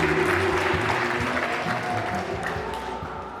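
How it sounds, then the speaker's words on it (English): Wedding guests applaud at a reception as the bride and her father are introduced, a steady dense wash of clapping throughout with a low hum of music or room noise underneath, easing slightly toward the end. "Round of applause for the bride and her father"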